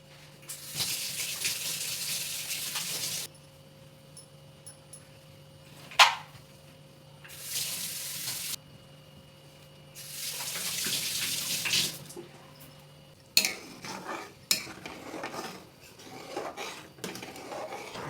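Water runs from a kitchen tap in several bursts of a few seconds each while dishes are rinsed, followed by clinks of utensils and pots being handled near a sink, with no talking.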